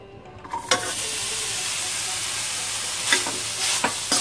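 Khoa roasting in a spoonful of ghee in a kadai over low gas, a steady close sizzle that starts after a short silence, with a few spoon scrapes against the pan.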